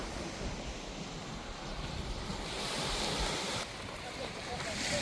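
Ocean surf rushes and roars steadily by rocks at sunrise, a broad wash of breaking waves mixed with wind buffeting the microphone.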